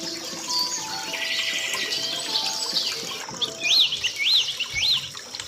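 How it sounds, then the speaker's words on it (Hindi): Steady babbling water from a waterfall runs throughout while several birds chirp and trill overhead, with a few clear rising whistles standing out near the end. "झरने की कलकल ध्वनि और चिड़ियों की चहचहाहट"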